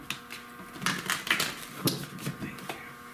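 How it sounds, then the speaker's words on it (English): Tarot cards being shuffled in a quick run of crisp riffling, papery slaps and clicks, fairly close and moderately loud, with no talking over it. "One more shuffle."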